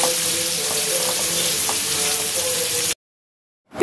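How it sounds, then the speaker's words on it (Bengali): Chopped onions frying in hot oil in a frying pan with lightly fried whole garam masala spices, a steady close sizzle with faint stirring taps, cutting off abruptly to silence near the end. "পেঁয়াজটা হালকা নরম হওয়া পর্যন্ত এখানে আমি পেঁয়াজটা ভেজে নেব।"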